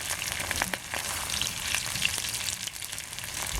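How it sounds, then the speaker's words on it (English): Chicken pieces for a Hunan chicken stir fry sizzle in a hot pan, a steady close crackling hiss with no talk. "fry them up one side first."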